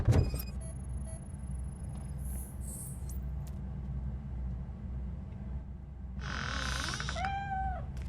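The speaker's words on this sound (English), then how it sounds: "There he is. Felis Catus." A cat meows twice in Robocop Rogue City, clear and close, over a steady low rumbling game ambience with no talk.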